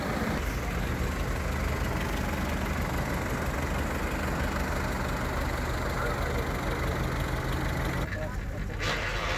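An old Ferguson tractor at a tractor run idles with a steady low rumble throughout, with people talking nearby.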